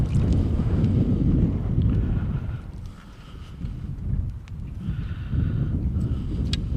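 Wind gusts buffet the microphone on a small fishing boat drifting on open water, a low rumbling roar that rises and falls in waves over several seconds.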